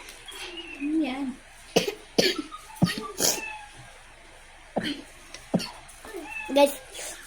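Several sharp, close coughs burst out in short fits, separated by quiet pauses in an otherwise hushed room.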